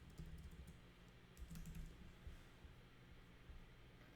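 Keys clatter on a computer keyboard, a faint, close run of irregular taps and short bursts, quiet and without any talking.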